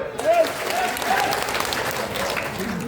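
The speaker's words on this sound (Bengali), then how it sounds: "আমার ওয়াইফের হাততালি হবে" Applause from a seated crowd at a DXN program gathering in Rangpur, Bangladesh, sustained and fairly loud throughout with some voices mixed in.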